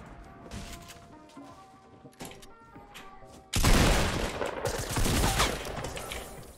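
SMG gunfire from a video game: scattered shots and faint clatter at first, then a sudden loud, dense burst of rapid fire that continues to the end.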